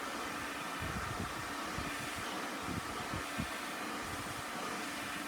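Blow dryer drying hair wound on a round brush, a steady loud airy whoosh throughout with occasional soft low thumps from brush handling.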